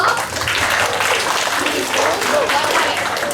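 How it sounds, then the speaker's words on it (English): A school assembly audience claps for a child, with a dense, even burst of applause filling the room for a few seconds, loud and close. "Clap for her."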